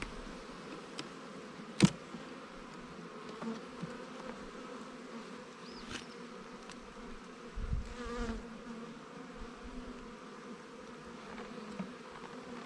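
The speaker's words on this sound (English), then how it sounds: "This is a really decent looking box of bees right here." A steady low hum of many honey bees in an open hive box during an early spring inspection, faint and continuous, with a few brief clicks and knocks over the buzzing and no voices.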